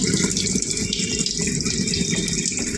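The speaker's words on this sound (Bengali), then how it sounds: "থালাটা আমি এখানে ধুয়ে নিই" Tap water runs in a steady, close, full gush while a plate is washed beneath it, with no voices.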